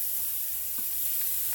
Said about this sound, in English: So I'm crisping up some, this is turkey bacon